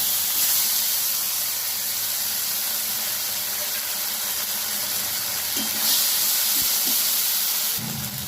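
Ginger garlic paste and onion paste frying in a pan with cumin seeds, a steady loud sizzle and hiss close up, with a couple of brief stirring scrapes near the end.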